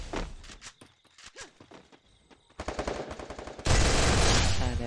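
Gunfire in the Free Fire battle royale game: bursts of automatic weapon shots, sparse at first, then denser and louder, ending in a sustained loud burst near the end with no talking.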